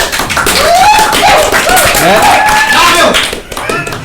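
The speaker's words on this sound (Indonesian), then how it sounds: "Tepuk tangan dong" Audience clapping at a film trailer release press conference for Rumah Aya, a loud burst of hands with voices calling and chattering over it throughout.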